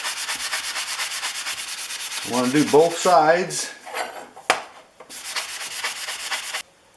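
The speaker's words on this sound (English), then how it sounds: "First, the sanding sponge." A sanding sponge rubs back and forth on a Stanley No. 81 cabinet scraper blade, steady rhythmic scratchy strokes, close up, pausing briefly while someone talks.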